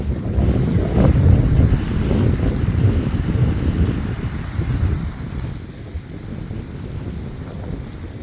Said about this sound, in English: It is windy as all get out.